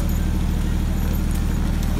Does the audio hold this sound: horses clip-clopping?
yes